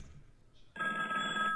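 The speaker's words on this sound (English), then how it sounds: "The phone is ringing." A telephone rings in a Paris Hilton Halloween horror game, a loud, steady electronic bell tone that bursts in partway through after a quiet, murky stretch and keeps going.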